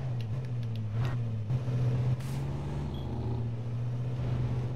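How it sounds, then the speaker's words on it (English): A truck in the video game H1Z1 drives along with a steady low engine drone and rumble, punctuated by brief knocks and clatters as it plows through objects. "This is what I like about the truck. It plows this shit."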